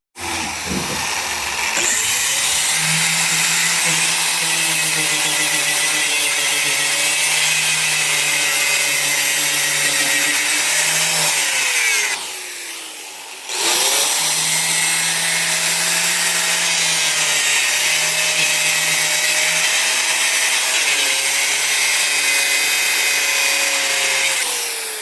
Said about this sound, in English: Get ready to cut this piece.